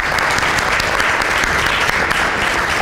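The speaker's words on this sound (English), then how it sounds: "Can you give them a round of applause, please?" A forum audience gives panelists a loud, dense round of applause, steady crowd clapping throughout with no pauses.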